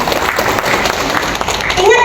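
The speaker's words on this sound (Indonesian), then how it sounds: "mari kita tepuk tangan untuk kita semua" An audience at a school anti-bullying presentation claps hands in a short, dense burst of applause that stays steady throughout, with voices mixed in.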